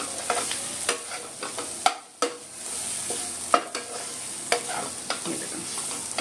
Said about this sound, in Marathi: लाल तिखट आणि इतर मसाले सगळे ॲड करूया. आणि ह्याला पुन्हा चांगलं परतूया.